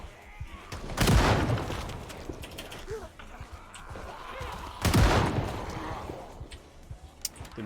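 Two loud, sharp gunshots roughly four seconds apart in the zombie survival game Project Zomboid, each with a decaying tail, over lower game ambience.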